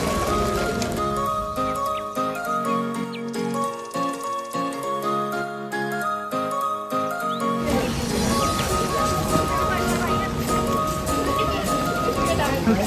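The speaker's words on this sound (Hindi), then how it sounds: "बारिश पड़ गई बीच में, रेनकोट लेने पड़े" Rain falling outdoors during a walk through Mana village near Badrinath, a steady patter that grows into a dense, louder downpour halfway through, with music playing over the first part.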